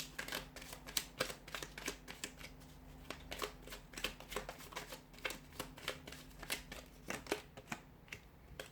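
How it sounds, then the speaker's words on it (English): Oracle cards being shuffled by hand, a run of quick crisp riffling flicks and taps, close and fairly quiet, repeating irregularly without talk. "So we'll give the cards a shuffle here."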